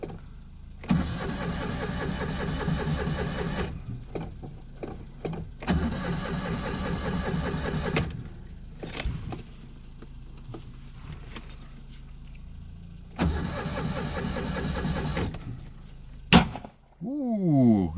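A choked engine cranks and fires up several times in bursts, with sharp popping backfires from a fuel-filled exhaust and a jingle of keys between attempts.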